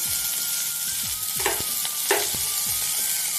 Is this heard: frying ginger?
yes